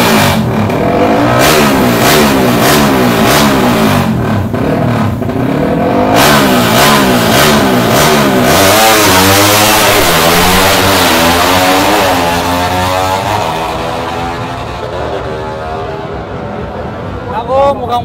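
A racing motorcycle at a motor show revving loudly and continuously with a rough, misfiring, stuttering engine note that rises and falls over a long stretch, with crowd noise and voices mixed in.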